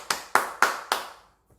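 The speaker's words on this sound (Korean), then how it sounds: "정말 잘했어요. 박수!" Four quick, sharp hand claps in an even rhythm, close and fairly loud, then a faint tap as they fade, at a church youth group service.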